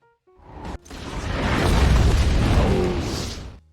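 A grenade launcher blast in a video game, a sudden loud boom that swells into a dense, roaring rumble and holds for about three seconds before cutting off, with no voices over it.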